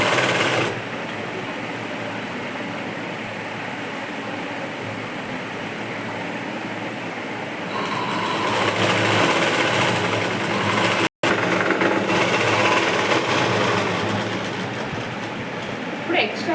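A sewing machine stitching a dress lining seam runs with a continuous mechanical whir, growing louder midway, with a brief break, then carrying on steadily.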